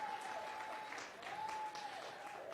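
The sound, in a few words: audience applause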